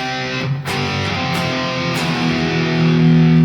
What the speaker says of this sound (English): We've now got this much kind of distortion going on.